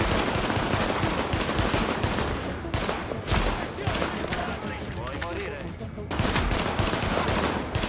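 Sustained gunfire in the video game The Division, dense rapid automatic bursts with short gaps, loud and close throughout, with someone talking over the shooting.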